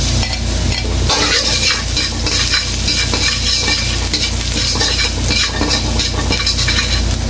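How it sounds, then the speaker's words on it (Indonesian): Two garlic cloves frying in a little oil for Solaria-style nasi goreng, a steady loud sizzle with stirring scrapes throughout and no talk. "Dan di sini pertama-tama saya akan masukkan dulu si bawang putih."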